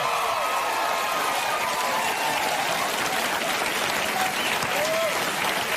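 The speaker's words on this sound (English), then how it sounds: "You didn't clap like that for me." Studio audience at a daytime talk show breaks into loud, sustained applause filling the whole stretch, with a voice talking faintly over the clapping.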